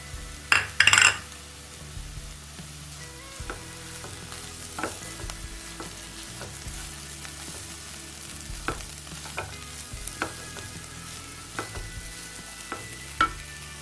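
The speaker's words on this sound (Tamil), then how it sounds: "தேங்காய் பூ சேர்த்து மிக்ஸ் பண்ணிட்டேன்." A spoon stirs a banana stem stir-fry with grated coconut and moong dal in a pan. Repeated clinks and scrapes against the metal sound over a soft sizzle, with a louder clatter near the start.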